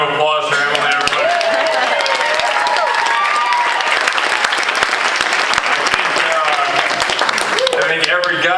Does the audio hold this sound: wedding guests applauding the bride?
yes